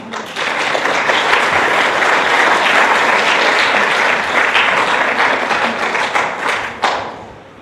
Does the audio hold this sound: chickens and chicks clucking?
no